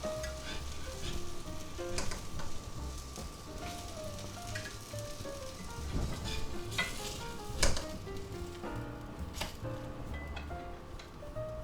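French toast with sausage, green onions and cheese sizzling in a cast iron skillet: a steady, quiet frying hiss with occasional stirring clicks, under a soft melodic background tune and no talk.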